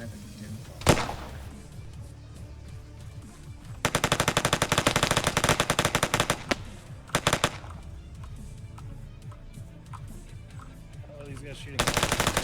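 ArmA 3 gameplay brings automatic gunfire in long, rapid bursts with a single sharp shot near the start. The firing is loud and sustained, and voices talk in between.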